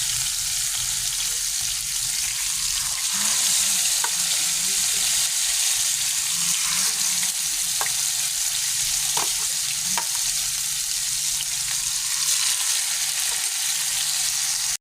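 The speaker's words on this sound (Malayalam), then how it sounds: "നമുക്ക് ചിക്കനാണ് നമ്മൾ ഇട്ട് കൊടുക്കുന്നത് എന്നിട്ട് അത് ചെറിയ രീതിയിൽ തന്നെ നമുക്ക് വേവിച്ചെടുക്കാം" Chicken frying in coconut oil for a spicy chicken fry makes a loud, steady sizzle that runs throughout, with a few faint clinks of a utensil against the pan.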